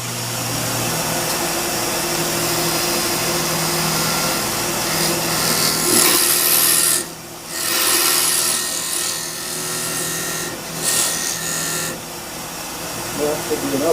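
A lathe tool cuts into spinning wood while a napkin holder is turned, with the tool rest raised slightly above center, cutting a groove so the piece can mount on the chuck. A steady close scraping runs throughout, broken by a few brief pauses.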